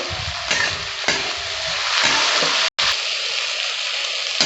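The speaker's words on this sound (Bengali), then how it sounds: "পেঁয়াজটা তাড়াতাড়ি ভাজা হয়ে যাবে" Sliced onions frying with a spoonful of salt in a pan for a spicy tangra fish curry, a steady loud sizzle with stirring scrapes at intervals and a brief cutout near the end.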